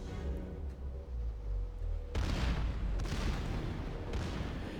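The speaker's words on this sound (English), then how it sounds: "You can see my secondaries firing away" Secondary guns aboard the battleship North Carolina fire repeatedly in World of Warships, heavy booming shots layered over a constant low rumble, with a sharp louder burst midway and further thuds following.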